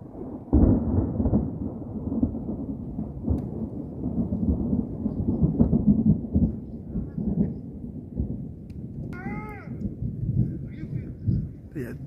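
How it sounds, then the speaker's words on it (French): Thunder from two separate thunderstorms rolls on and off as low rumbles over steady background noise, with a person talking throughout. "Il y a deux orages, il y en a un ici et un là-bas. Il y a deux orages, c'est un truc de fou."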